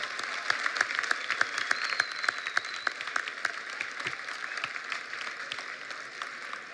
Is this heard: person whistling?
no